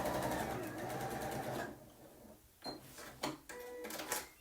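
A sewing machine runs a fast, steady stitching burst along a cushion seam for about a second and a half, then goes quiet apart from a few soft clicks and handling knocks, close and fairly quiet.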